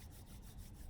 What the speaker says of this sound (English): bring your hands together and rub the hands